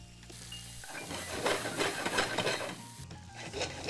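Green chillies sautéing in a pan, a steady close sizzle with scraping stirs and light clinks of a utensil against the metal, building through the middle and easing near the end.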